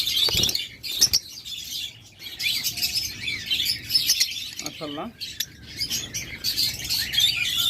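Finely marked caged birds at a local bird seller's chirp and tweet in a dense, steady chorus that runs throughout, with someone briefly speaking over them.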